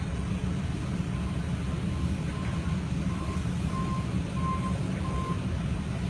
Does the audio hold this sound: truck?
yes